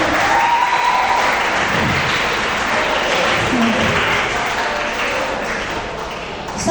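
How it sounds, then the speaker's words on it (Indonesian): An audience at a school creative writing workshop in Singosari gives a round of applause, loud continuous clapping that stays full throughout and fades slightly near the end. "Sekali lagi tepuk tangan untuk Bapak Kukuh"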